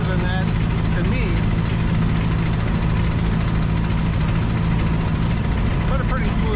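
Steady low engine drone and road rumble from a 1930 Ford Model A Tudor sedan cruising at 35 to 40 mph, continuous and fairly loud from inside the cabin throughout.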